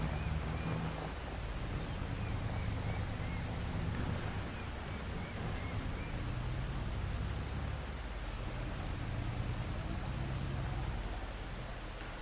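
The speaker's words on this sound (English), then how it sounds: "This rain should stop soon." Steady heavy rain pours down on open farm fields, a continuous broadband hiss with a low rumble underneath, loud and constant throughout.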